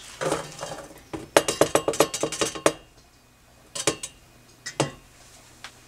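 Beans tumble into a large pot in rattling bursts of small hard clinks and clatters, a dense cluster followed by shorter scattered spills, close and clear.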